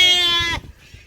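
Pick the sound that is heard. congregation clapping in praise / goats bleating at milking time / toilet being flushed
goats bleating at milking time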